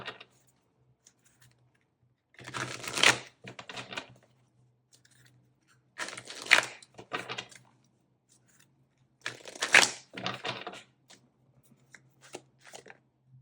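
Oracle cards being shuffled in three separate bursts of riffling and rustling, each a couple of seconds long, close up and fairly quiet with near silence between.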